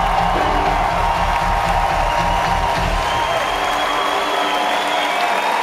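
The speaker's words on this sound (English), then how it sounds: "big round of applause for Nicky there" A concert crowd at the Santa Monica Civic applauds and cheers loudly and steadily, dense clapping mixed with whoops and shouts that fill the whole stretch.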